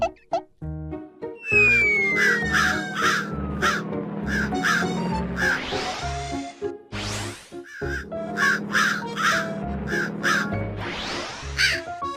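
Loud, close crow caws repeat in two bursts over a melodic chiming music track, with sliding whistle-like sweeps between the calls.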